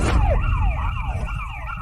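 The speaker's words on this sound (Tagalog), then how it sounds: "Ginoong Boyle, nandito na ang mga pulis." Police siren wailing as a vehicle arrives, a continuous rising and falling electronic wail over low rumbling traffic noise, loud and steady throughout.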